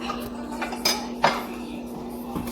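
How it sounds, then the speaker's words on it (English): A small knife slicing okra knocks against a cutting board or dish in a kitchen, with a few sharp, separate clinks and taps spread across a quiet background hum. "So we are done chopping away and slicing our okra."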